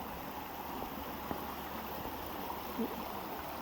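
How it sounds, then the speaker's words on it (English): A waterfall and stream pour over rocks along a hiking trail, a steady, soft broadband rush of flowing water with no speech and only a couple of faint knocks. "we have more water coming down. Pretty cool waterfall."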